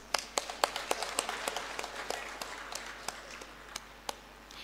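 A small audience at a nursing institute's lamp lighting and oath taking ceremony gives sparse, moderately distant applause for a prize winner, with individual claps standing out through the few seconds.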